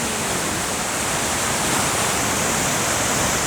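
A powerful waterfall on the Dalälven river in Sweden roars in a steady, dense rush of falling water, loud and continuous with no voices.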